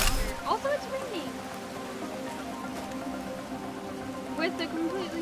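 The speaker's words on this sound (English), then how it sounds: "Also, it's raining!" Steady patter of rain falling in a video game, soft continuous hiss of drops mixed with light game sounds and musical tones, under a voice speaking at times.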